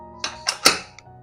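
A lid set onto a cooking pot of variety rice for a lunchbox, giving a few close metallic clatters and a soft thunk, then quiet.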